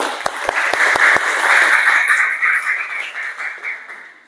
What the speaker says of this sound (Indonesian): Ya, kita kasih tepuk tangan dulu.